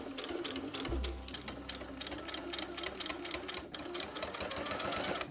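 A sewing machine stitches bias tape onto the lower edge of a dress lining, a steady close mechanical whirr of rapid needle strokes running continuously with slight shifts in speed and no talking.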